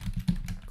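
Brief burst of computer keyboard typing as a script is run in a Windows workspace, a few soft clustered keystrokes close up with no talking.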